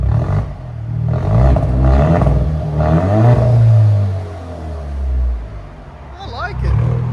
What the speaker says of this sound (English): There is a rev limiter on it, guys, so we can't really rev it high.